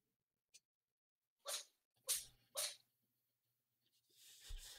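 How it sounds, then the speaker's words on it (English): A house cat sneezes three times in a quick row, sharp and nearby in an otherwise quiet room, followed by a faint rustle and a fainter click just before. "I hear sneezes."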